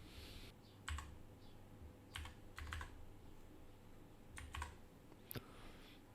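Quiet computer keyboard typing as a verification code is entered: a few short bursts of soft key clicks separated by pauses, with one sharper click near the end, no speech.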